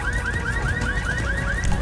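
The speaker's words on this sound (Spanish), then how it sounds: "Alarma, ahí se la activé." A car alarm in GTA V on a FiveM server sounds a rapid repeating electronic whoop, each rising chirp evenly spaced and loud, with no talking over it.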